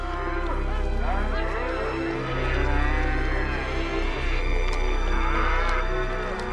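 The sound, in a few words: cattle lowing, buffaloes and cows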